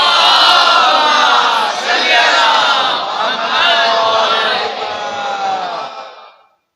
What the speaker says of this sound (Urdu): درود بھیجے مل کے محمد آل محمد